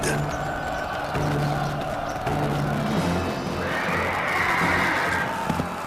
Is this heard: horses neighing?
yes